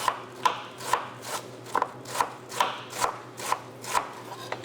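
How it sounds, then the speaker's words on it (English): A knife chops iceberg lettuce into a fine chiffonade on a cutting board, giving about ten evenly paced, crisp cuts close by with no talking. "And we'll be cutting some iceberg lettuce."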